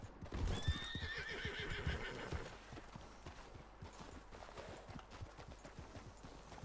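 A horse in the video game Red Dead Online gives a long, loud whinny near the start, followed by steady clip-clop hoofbeats as it walks on.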